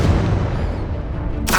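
A Confringo fire-blast spell detonates in Hogwarts Legacy, a deep rumbling boom that rolls on throughout, capped by a sharp bright burst near the end.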